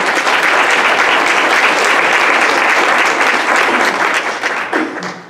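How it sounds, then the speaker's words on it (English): Audience applause at a community event for sponsors, dense steady clapping from a large crowd that carries on loudly for about four seconds and then tapers away. "Please a big round of applause for all of our sponsors today."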